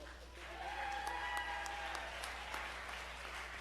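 Applause at a board of education meeting for Sousa Elementary School honorees, moderate, fairly distant clapping from a seated audience that swells and then tapers, with faint voices mixed in.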